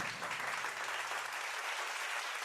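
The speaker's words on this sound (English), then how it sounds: "I'll give you a clap for that." An audience claps continuously with dense, steady applause at a moderate level, filling the whole stretch without pauses or voices.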